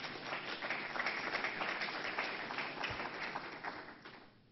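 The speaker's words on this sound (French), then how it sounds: "vous pouvez les applaudir" Audience applause for conference organizers at the opening of a French professional event, a dense, sustained wash of many hands clapping at moderate distance that fades out toward the end.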